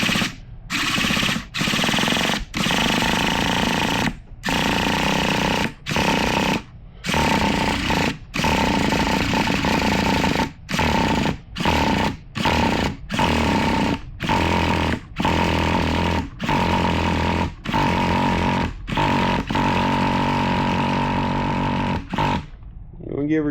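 A Traxxas T-Maxx 2.5 nitro RC truck's small engine runs with a loud, buzzing, rattly drone, cut by repeated short gaps and surges as the throttle is blipped.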